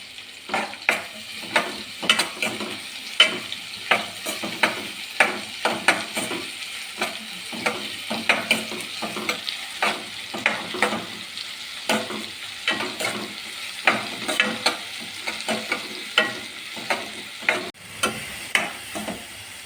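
Chopped nendran banana and jackfruit sizzle in a pan under a steady rhythm of stirring scrapes, with close, repeated utensil strokes throughout.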